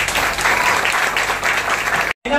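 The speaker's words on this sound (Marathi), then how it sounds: "जो टाळ्या वाजवत नाही त्याला कंजूस म्हणतात. जोरदार टाळ्या." A crowd at an awards and birthday celebration gives loud, dense, sustained applause that fills the room and then breaks off abruptly near the end.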